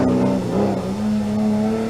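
Supercharged 1.6 litre R53 generation Mini engine at a sprint event, a loud steady engine drone holding a near-constant pitch with a slight dip and rise, continuous and close throughout.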